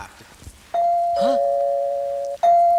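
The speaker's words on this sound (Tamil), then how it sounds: "காலிங் பெல் சத்தம்" A doorbell chimes two sustained tones, then sounds again briefly, ringing clearly over quiet room noise.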